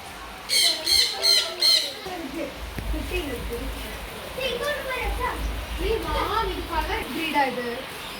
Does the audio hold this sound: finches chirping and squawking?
yes